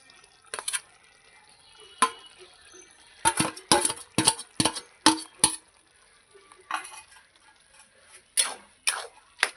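A spatula scrapes and knocks in a pan while chal kumro ghonto with fried prawns is stirred, giving irregular clusters of close clinks and taps separated by quiet gaps.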